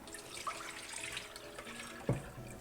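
Rice being washed by hand under running tap water, a soft steady trickle and splash with light stirring swirls and a brief louder clatter near the end, no talking.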